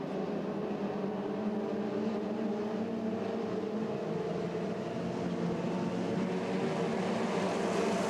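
Formula 2500 racing powerboats accelerating out of the second turn of a race at St Félicien, engines droning at full throttle in a steady, distant-sounding buzz with no pauses.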